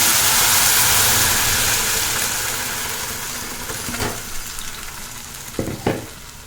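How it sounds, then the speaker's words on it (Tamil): Curry leaves and chutney paste frying in a pan give a steady broad sizzle that starts loud and slowly fades, with a couple of sharp clatters of stirring near the end. "பொரிஞ்சிருச்சு இப்போ நம்ம எடுத்து வச்சுருக்க பேஸ்ட்டையும் அதோட சேர்த்துக்கலாம்"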